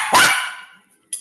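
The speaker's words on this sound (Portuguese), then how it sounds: "Quem tá latindo aí? É o cachorrinho" A small dog gives one sharp, close bark that fades out, followed by the clipped start of a second yip.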